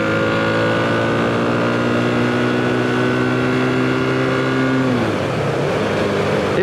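A 1976 Honda CB550K motorcycle engine hums steadily and loudly while riding, with a constant tone that drops in pitch about five seconds in, as if easing off the throttle.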